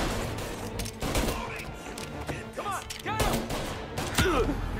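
Rapid bursts of gunfire in Mafia: Definitive Edition crack repeatedly, some shots close and sharp, others in quick clusters, with faint voices between.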